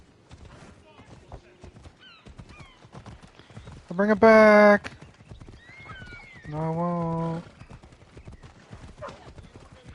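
Horses in Assassin's Creed Odyssey clatter with quick rhythmic hoofbeats under ongoing talk, broken by a loud neigh midway and a second, lower whinny shortly after.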